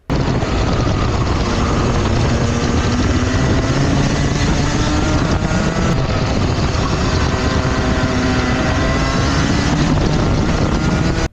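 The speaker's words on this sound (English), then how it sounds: "You can just hear the revs just stay still for a moment, and then it begins to gradually get higher" Racing kart engine heard close and loud at the KNSW State Titles coming out of a carousel corner: the revs hold steady briefly, then slowly build in pitch over a long, unbroken drone.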